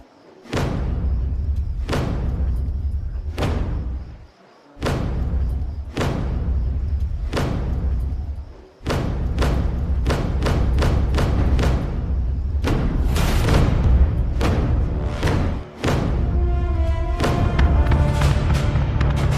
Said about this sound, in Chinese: 来吧，我们战鼓响了啊！